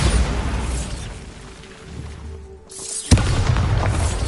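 A Bombarda explosion spell goes off in the video game Hogwarts Legacy. One sharp blast cracks out over a steady background rumble, then the noise stays busy afterward.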